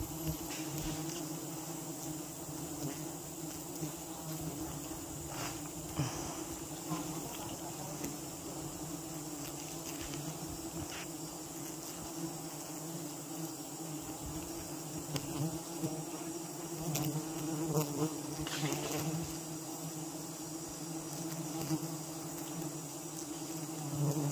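Bees buzzing at a very large beehive: a dense, continuous droning hum from many insects, steady and fairly close, with a few louder passes.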